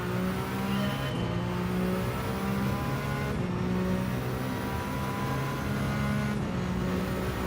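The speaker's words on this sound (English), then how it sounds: "sounds like a regular Gr.1 car. Nothing special with the Peugeot at the moment" A Peugeot Gr.1 prototype race car in Gran Turismo 7 holds a steady, droning engine note with periodic whining shifts, continuous and close throughout.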